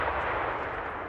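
A tank cannon firing in the Enlisted video game set in the Normandy invasion, a loud, dense, rumbling blast that fills the whole moment without a break.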